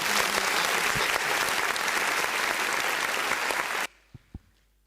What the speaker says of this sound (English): I'd like all of us to give a round of applause to the hosts